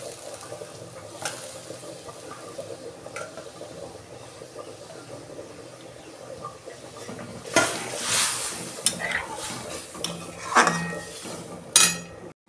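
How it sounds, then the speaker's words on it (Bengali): Vegetables go into a cooking pot of vegetarian dal with clattering pot-and-utensil knocks and brief sizzle bursts, fairly close, over a quiet kitchen background with no talk. "এই যে সবজিগুলো সব দিয়ে দিচ্ছি"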